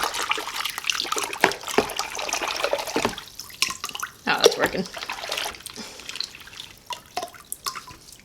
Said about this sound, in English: So I just got a bucket of water.